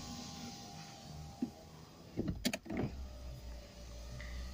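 A manual crank window on a 2015 Ford Fiesta is wound by hand inside the car, giving a faint mechanical whir with a few soft clicks and knocks in the middle over a quiet cabin hum.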